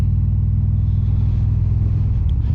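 An Indian Springfield motorcycle engine heading out on a ride with a stock seat fitted with a double foam upgrade, giving a loud, steady, low rumble up close with no voices.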